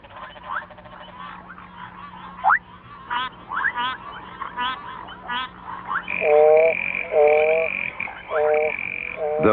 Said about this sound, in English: the Chiromantis tree frogs fight among themselves for the highest positions from which to send out their calls